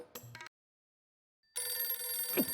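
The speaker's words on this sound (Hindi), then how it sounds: "उसका फोन आया है" A telephone rings in a domestic sitcom scene, a short burst of ringing, then a second of silence, then a louder, sustained stretch of ringing with a bright tonal edge.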